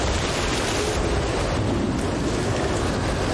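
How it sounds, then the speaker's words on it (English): A heavy thunderstorm at sea from the film Cast Away: a steady, loud wash of rain and wind with deep rumbling underneath, constant and close for the whole stretch. "It's just a really bad storm."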